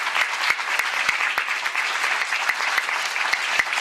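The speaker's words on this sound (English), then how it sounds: "Let's give our panelists a round of applause." An audience applauds panelists at the close of an evening round-table discussion, a dense, steady clatter of many hands clapping close by, with scattered sharper claps standing out through the whole stretch.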